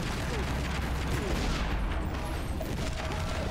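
Dense gunfire fills a Tomb Raider: Legend firefight as a loud, continuous crackling volley of rapid shots that barely lets up across the moment.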